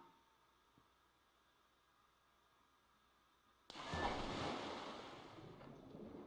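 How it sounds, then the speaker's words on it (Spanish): Diving into water in The Legend of Zelda: Twilight Princess, a sudden loud whooshing splash that cuts in after a quiet ambient hum and settles into a steady underwater rush. "nos tiramos al agua"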